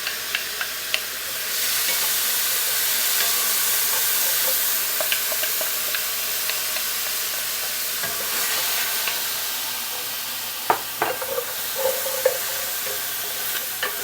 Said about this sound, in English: And I'll saute these for about 3-4 minutes or so until they're soft.